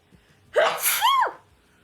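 A single loud, close human sneeze: a sharp gasping intake that breaks into a forceful burst, in an otherwise quiet room.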